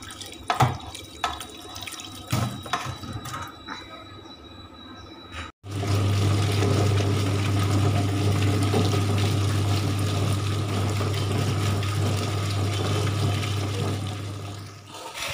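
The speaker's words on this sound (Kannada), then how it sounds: "ನೀರು ಹಾಕುವ." Water is poured into a wet stone grinder while a Mangalorean mackerel fish curry masala is being ground: first splashing and dripping, then the grinder motor settles into a loud, steady hum under running water.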